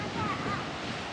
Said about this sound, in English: Listen, you can probably hear the wind here.